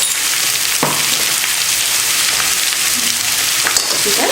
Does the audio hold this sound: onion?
yes